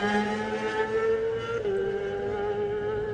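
A Kawasaki supersport racing motorcycle on the PRL team revs at the start of the 2018 Isle of Man TT Supersport race, holding a steady high engine note that dips slightly as the pitch shifts, loud and close.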